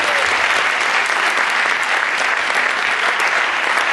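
Dense, loud audience applause at a university Power Up Weekend stage event, a continuous wash of many hands clapping without letup and no voices over it.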